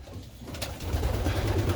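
Pigeons cooing inside a crowded loft, with soft, low, continuous throaty coos from many birds blending into a steady murmur that builds slightly, close by and without speech.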